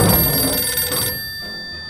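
A loud telephone bell rings in the 60 Seconds survival game, a bright sustained ring that cuts off abruptly after about a second, followed by a faint low thump.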